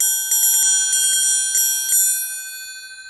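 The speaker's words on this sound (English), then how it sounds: "You can also play on the top for a little bit more of an articulate and direct sound with slightly less overtones." An 8-inch steel Black Swamp triangle struck on top rings in a quick series of bright, articulate strikes over a shimmering sustained tone that slowly decays.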